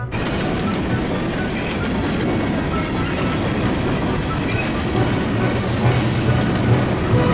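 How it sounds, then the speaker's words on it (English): A Norfolk Southern 30Q freight train passes eastbound on the near track, a loud, steady rumble of wheels with rhythmic clickety-clack from the rail joints throughout. "we saw Norfolk Southern 30Q going by eastbound on the close track"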